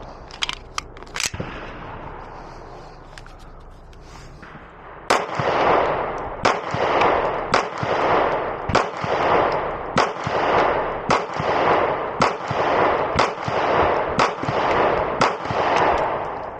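Beretta PX4 Storm pistol fitted with a compensator, fired in a fast string of sharp, loud shots at close range after a few scattered earlier shots, with brief pauses between bursts.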